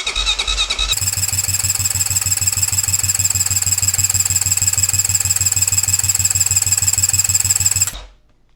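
The starter of a Honda 400EX ATV cranks the engine in a loud, rapid, even chugging rhythm for about seven seconds, close by, then cuts off abruptly into near silence.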